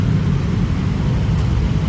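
Low, steady rumble of idling and creeping cars stuck in a long traffic jam on the road, close and continuous with no voices.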